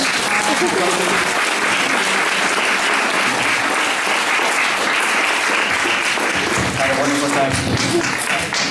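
Audience applause fills the room after a concert following a talk on Okinawan identity and languages, a dense, steady wash of clapping sustained loudly throughout, with some voices mixed in.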